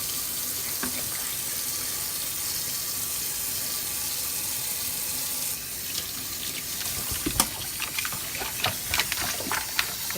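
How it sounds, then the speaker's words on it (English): Tap water runs steadily into a kitchen sink as raw chicken is rinsed, a close, constant hissing stream that breaks into uneven splashes and spatters as the meat is moved under it, with no talk. "So now we're rinsing it off."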